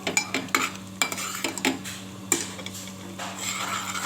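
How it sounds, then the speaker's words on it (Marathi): Roasted masala is stirred and sautéed in a pan, with a spoon clacking and scraping against the metal in quick irregular strokes. A low sizzle runs underneath, close up, with no talking. "हा असं थोडं परतून घ्यायचं"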